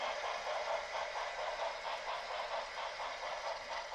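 An MTH model train locomotive's sound system runs through its shutdown sequence: a steady, mid-loud mechanical rumble with a regular pulsing beat, heard alone without voices.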